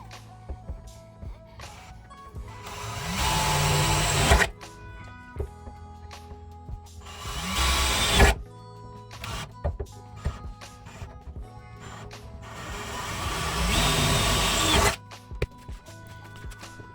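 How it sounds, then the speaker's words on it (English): A power drill whirs in three bursts of several seconds each, drilling rivet holes for boat hatch hinges, with quiet pauses and small clicks of handling between them. "Now you can drill the holes for the rivets that are going to hold the hinges."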